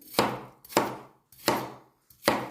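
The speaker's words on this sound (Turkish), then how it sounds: "Evet ben elmalarımı böyle küçük küçük küp küp doğradım." Apples being chopped into small cubes on a board: four crisp, evenly spaced knife strikes, close and loud, with no voices.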